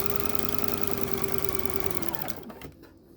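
Close up, a sewing machine stitches a quilt block seam, its fast, even mechanical whir running steadily and then slowing and stopping near the end, followed by faint handling noise.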